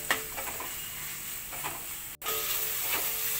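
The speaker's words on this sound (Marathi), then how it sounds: "आणि 1 चमचा जिरे पावडर। परतून घ्यायचं आहे पूर्णपणे।" Cumin powder and coriander powder sauté in a pan for dal fry, making a continuous close sizzle and hiss broken by a few soft stirring scrapes and one brief cut.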